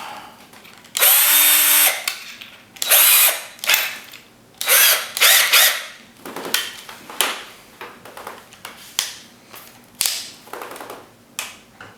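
Power drill unscrewing screws from a Korg Monotribe synthesizer, a series of loud close whirring bursts of varying length with short pauses and ratcheting clicks between them.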